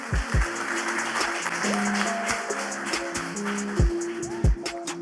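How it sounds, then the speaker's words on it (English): A conference audience claps for presenters, steady mid-level applause with a voice over it and a few whoops, continuing for several seconds. "Please give them a huge round of applause."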